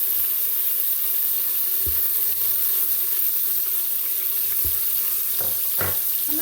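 A bay leaf and a black cardamom sauté in hot oil for mutton paya curry, a soft, steady sizzle broken by a few sharp knocks of a utensil against the pot.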